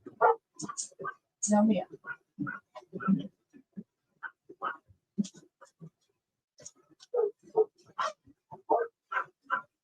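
A pet dog barks and yips in short, close bursts scattered throughout, with whimpering, while a woman gives firm commands to it between and over the barks.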